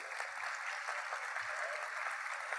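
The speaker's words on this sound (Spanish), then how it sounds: "Fuerte el aplauso para ellos." Distant applause from a crowd at a corporate social responsibility award ceremony, a steady wash of many hands clapping, fairly faint and continuous throughout.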